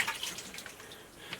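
Cold water splashes and trickles as hands are washed inside a copper mine in Rolpa, Nepal: a faint, close, brief wash of running water with small drips and no talking.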